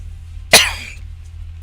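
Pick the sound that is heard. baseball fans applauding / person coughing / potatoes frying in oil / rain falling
person coughing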